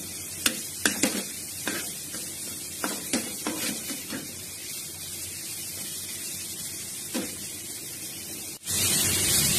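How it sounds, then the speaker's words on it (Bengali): Banana flower, potato and spices fry in a pan with a gentle background sizzle, broken by a series of sharp scraping and clinking stirs against the pan. A louder hiss surges in at the very end. "মশলাটাকে ভাজবো"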